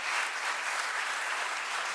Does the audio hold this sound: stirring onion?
no